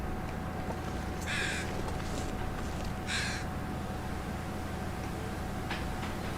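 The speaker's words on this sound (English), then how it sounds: "Did you hear that bird?" Birds call in the video game The Long Dark, giving two loud harsh caws a couple of seconds apart, with a fainter third call later, over a steady ambient background hum.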